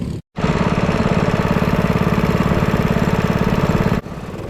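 A GX160 160-class racing kart engine on a Birrell chassis at the Fulbeck track idles close by, a steady buzzing chug that cuts out briefly near the start, runs evenly, then drops to a lower, quieter idle near the end.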